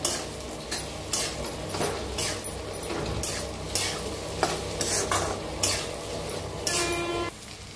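A spatula scrapes and taps rhythmically against a frying pan while roasted okra sizzles softly underneath, steady stirring strokes repeating close by.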